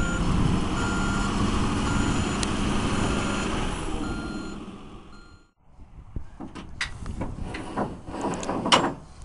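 Truck backing a trailer under a storage building, steady reversing beeps repeating over a loud idling engine, then cutting out into quieter clanks and knocks of equipment.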